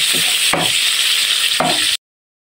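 Onion and chili sautéing in a pan for ginisang upo with canned tuna, a steady loud sizzle broken by two scraping stirs of the spatula, then cutting off abruptly.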